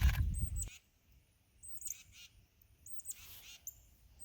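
Small birds, including a titmouse, call from a tree in short high chirps repeated about every second and a half, faint against quiet outdoor background after a brief low rumble at the start.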